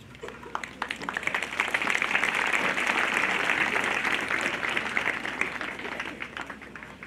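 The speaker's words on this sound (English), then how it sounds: "Let's give a better clap to our chief guest." Audience applause for the chief guest at a girls' high school event. It swells into sustained, dense clapping and then slowly fades.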